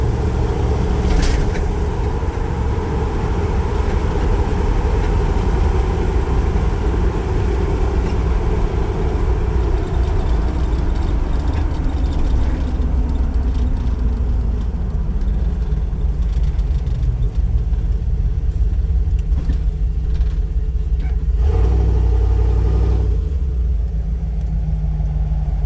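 A 1978 Ford Bronco with a fuel-injected 460 engine runs steadily, a loud continuous low rumble that holds throughout, with a slight rise and fall in pitch partway through.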